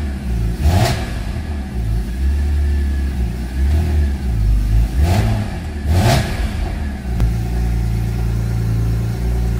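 A cold BMW M3 engine at idle, blipped into several sharp revs that rise and fall back, loud and close, with no talk.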